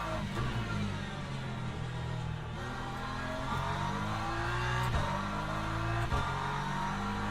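Race car engines in Le Mans Ultimate during a multiclass race at Silverstone, with a loud, continuous engine drone that rises and falls in pitch through gear changes, along with other cars passing, and no talking.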